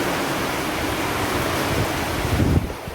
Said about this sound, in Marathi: वारा आणि पाऊस सोबतच आहे